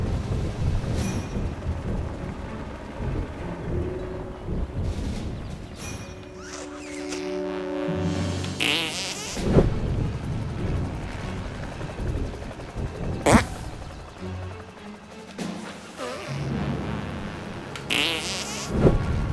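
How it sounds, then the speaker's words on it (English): Cartoonish fart detonations from the South Park: Stick of Truth video game, several loud, crackling bursts spaced through a murky game soundscape with rumbling, stormy background noise. "Fart is where you want it. Use A to detonate it."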